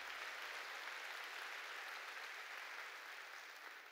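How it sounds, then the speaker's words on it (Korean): Members of a Korean church congregation clap together, a faint, continuous crowd patter that holds steady and tapers slightly near the end, with no speech on top. "깨달은 사람만 박수 쳐."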